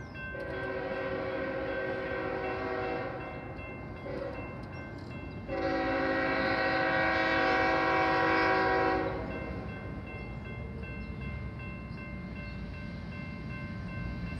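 A CSX mixed freight train rolls past, its horn blaring in two long blasts, the second louder and nearer, over a steady rumble of wheels and cars.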